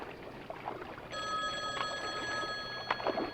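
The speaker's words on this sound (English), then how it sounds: "John, the payphone, that's here for some reason. It's ringing." A payphone rings in a dim, quiet place. A steady electronic bell tone starts about a second in and continues unbroken over a faint background hum.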